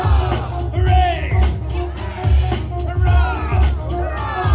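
A festival crowd at an outdoor steampunk event shouts "hooray" in loud, repeated bursts of mixed cheering and yelling. Each wave swells and falls away before the next one comes.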